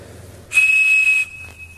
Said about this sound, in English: This guy, right here, the Captain Crunch whistle.